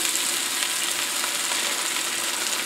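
A ham steak sears in a smoking-hot cast iron pan, giving a loud, dense, continuous sizzle that holds steady throughout with no voices.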